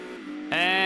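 Race car engine in Gran Turismo 2, a ZZ-S Coupe, revving up sharply halfway through a short burst of steady harmonic engine whine, loud and close with no talk.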